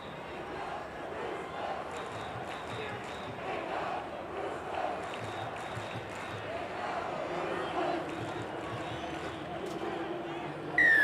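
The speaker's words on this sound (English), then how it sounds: "Another good crowd here at the Sydney Football Stadium today." Stadium crowd at a 2001 NRL rugby league match between the Sydney Roosters and Parramatta Eels at the Sydney Football Stadium, a steady broad roar of about 20,000 spectators with commentary voices over it throughout.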